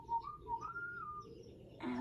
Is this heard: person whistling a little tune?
yes